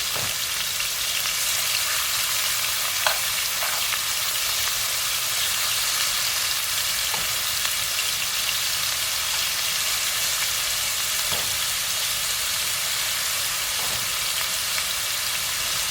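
Steak pieces for pepper steak sear in a hot pan, making a loud, constant, dense sizzle and frying hiss that continues steadily with faint pops and no voices.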